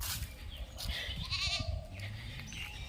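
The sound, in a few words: goats bleating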